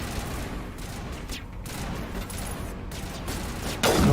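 Sustained gunfire from Mass Effect 1 rattles as a dense, continuous burst of shots, loud and close, ending in a sharper crack.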